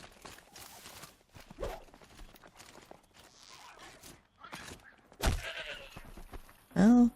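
A goat in Horizon Zero Dawn gives one loud, close, wavering bleat at the end, after a stretch of soft footsteps and scattered game noises.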